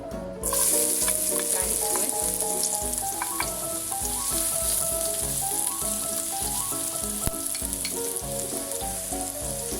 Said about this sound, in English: it's ready to fry the garlic